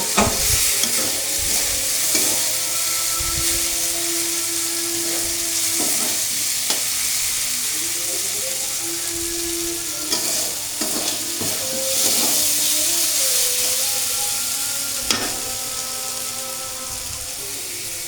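Potatoes and spices fry in hot oil in a pan for chotpoti, with steady sizzling under repeated scraping and stirring strokes and occasional clatters of the utensil against the pan.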